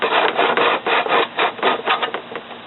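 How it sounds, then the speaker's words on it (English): A hand saw cuts through wooden molding in a miter box, with close, loud rasping strokes in a steady back-and-forth rhythm of about a dozen passes and no talking. "That's what you get out of a miter saw."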